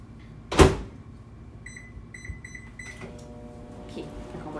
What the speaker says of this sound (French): puis je vais la placer dans le four micro-ondes